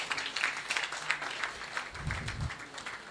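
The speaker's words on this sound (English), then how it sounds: "Please, can we give him a round of applause?" Applause from an audience at a corporate event, a moderate, steady patter of clapping with a brief low thump near the end.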